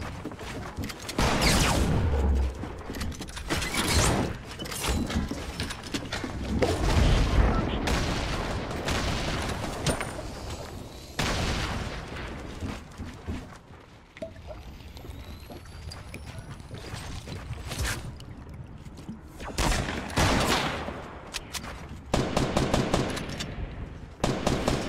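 Heavy gunfire in a Fortnite Battle Royale match, repeated rapid bursts and single loud shots clustering at the start and end with a quieter lull between.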